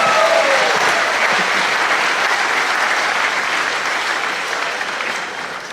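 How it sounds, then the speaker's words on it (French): Sustained audience applause at a public event in Conthey, a dense steady clapping that fades slightly toward the end, with no talk over it. "Je peux l'applaudir"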